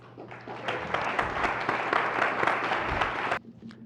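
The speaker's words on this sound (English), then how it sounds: "If we can give a round of applause again, please." Audience applause at a panel talk on equity planning and gentrification: dense, sustained clapping from a room of listeners that holds steady for about three seconds and then cuts off sharply, leaving quiet room tone.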